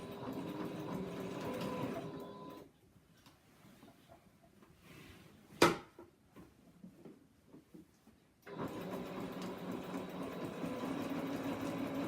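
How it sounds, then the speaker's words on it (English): A sewing machine running steadily while stitching in the ditch through a quilt sandwich, a continuous mechanical whir that stops for a few seconds with a sharp click in the pause before resuming. "I'm just going to sew straight down, a stitch in the ditch technique"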